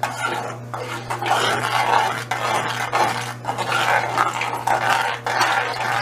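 A spoon stirs chili powder into a sauce in a pot, making repeated close scraping and clinking strokes against the pan in an uneven rhythm, with no talking.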